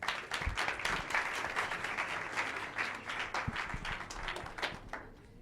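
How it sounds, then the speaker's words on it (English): An audience at an evening fireside chat event claps to welcome the host, a dense patter of many hands that stays fairly quiet and steady before thinning toward the end, with no speech. "Please give her a round of applause."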